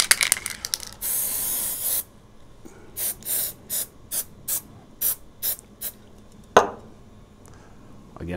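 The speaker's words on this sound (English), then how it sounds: "You're going to use your Scantus spray." Scantus scanning spray puffed onto dentures as they are prepared for a Shining 3D AutoScan DS EX Pro scanner: one long hiss, then a rapid series of short, close spray bursts.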